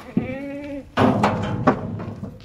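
A couple of goats, dairy goats at a sale, bleat close by, one drawn-out wavering cry followed by another, with a few soft thumps between them.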